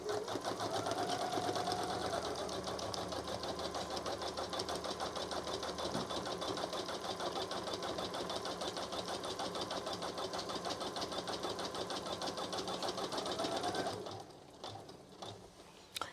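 A Janome Memory Craft 1000 embroidery machine stitches green confetti motifs in a steady, close rapid whirring run for about fourteen seconds, then stops abruptly, leaving quieter mechanical clicks as it ties off and trims the thread.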